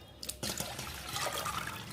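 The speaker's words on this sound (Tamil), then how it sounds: "நான் தண்ணியெல்லாம் வச்சுட்டு உங்களுக்கு காமிக்கிறேன்" Water runs from a tap into a pot of rice and moong dal for kanji, a steady close splashing flow that starts abruptly after a brief quiet moment and continues without talk.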